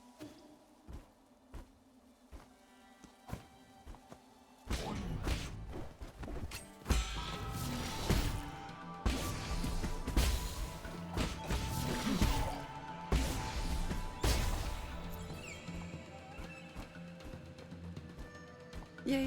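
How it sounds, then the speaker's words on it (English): Explosions go off in the Nine Sols video game. After a quiet start, a run of loud, crashing impacts and bursts rumbles on in irregular succession, layered over the game's clattering action sounds. "Yay, explosions!"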